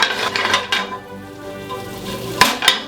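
A tomahawk beef steak is flipped in a hot pan with butter, giving a steady sizzle under clanks of pan and utensils, with a sharp metallic clatter near the end.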